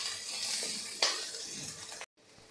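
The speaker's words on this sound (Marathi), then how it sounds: "तर लसूण मिरची छान अशी आपली परतून झालेली आहे।" Garlic and green chillies sauté in hot oil, a steady close sizzle with a stir scrape partway through before cutting out abruptly.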